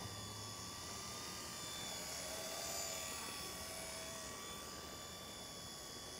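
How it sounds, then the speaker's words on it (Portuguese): A small V912 remote control helicopter hovers steadily nearby outdoors, its rotor and motor producing a constant high-pitched whine and buzz. "Dá pra fazer um voo de costas, Max?"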